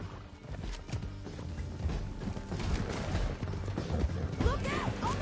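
A horse gallops in Red Dead Redemption 2 during a mission escape, rapid hoofbeats pounding under a mix of mechanical clatter, gunfire-like bursts and a brief whinny, busy and close.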